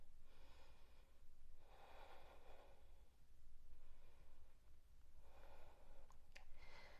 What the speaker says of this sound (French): On fait 2 respirations.